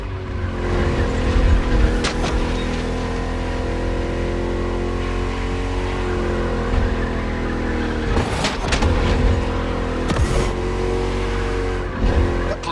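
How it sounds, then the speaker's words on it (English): A Ford Mustang V8 roars through a lap in The Crew Motorfest, its deep engine note held loud and steady. Sharp bursts of tire squeal and skidding cut in through the corners as the throttle is worked. "Just listen to that V8 like a chunky, down-tuned guitar riff."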